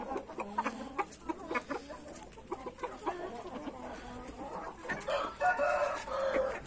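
Several hens cluck while laying eggs in a rural coop: a busy overlapping chorus of nearby clucks and cackles, building to a louder, sustained cackling call near the end, with no talk.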